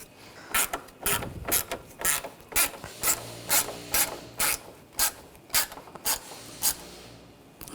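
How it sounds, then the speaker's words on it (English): A ratchet clicks in short, regular bursts as screws are snugged down on the AC condenser of a 2007-2013 BMW X5 3.0L L6, close and clear with brief pauses between strokes. "Now take the screws, get the screws lined up. And snug those down."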